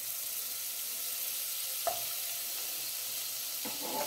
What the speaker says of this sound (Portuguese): esperei dissolver aqui a margarina